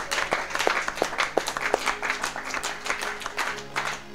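A church congregation at a Wednesday prayer meeting applauds the Lord, steady rhythmic clapping from many hands, close and lively, with a few faint voices and a sustained musical tone underneath.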